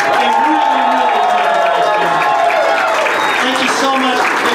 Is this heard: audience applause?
yes